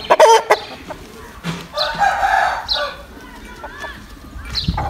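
Farmyard rooster and chickens cluck and call close by, with a short crow-like burst, while people talk over and between the bird sounds.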